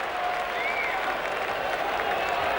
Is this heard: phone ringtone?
no